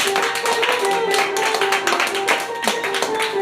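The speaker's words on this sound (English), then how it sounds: "So, if you would give a round of applause for 3 of our Late Fear writers, Troy, Lydia, and Cordero." A live audience claps for the writers of a comedy show, with quick, dense clapping mixed with faint voices and a steady tonal hum underneath.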